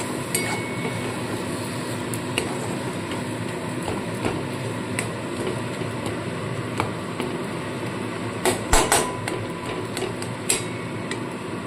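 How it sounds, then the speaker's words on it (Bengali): Spatula scraping and clinking in a pan of loitta fish curry with coriander, irregular metallic taps over a steady sizzling hiss, with a louder flurry of clanks near the end. "তো আবারও ভালো করে নাড়তে থাকবো।"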